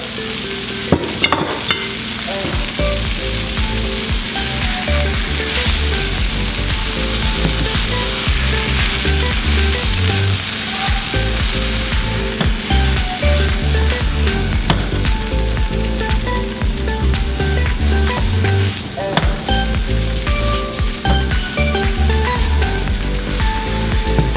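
Potato omelette sizzling and frying steadily in a pan, a loud continuous crackle with occasional scraping and clatter, no voices.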